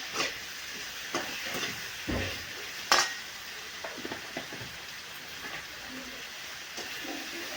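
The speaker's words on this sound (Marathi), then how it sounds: "आता ह्या शेंगा शेंगाला छान मस्त परतून घ्यायचं आहे" Drumstick pods sautéing with homemade masala for a dry spiced dish, a steady soft sizzle under occasional spoon scrapes and stirs against the pan, close and fairly quiet.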